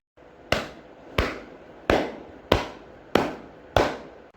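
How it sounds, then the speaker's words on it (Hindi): Six sharp, loud gunshots ring out at a steady pace, each a sudden crack that trails off into a short echo, with no voices. "रांझे को लगने वाली गोलियां हीर को लग जाती हैं"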